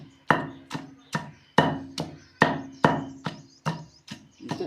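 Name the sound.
grinding green chilli chutney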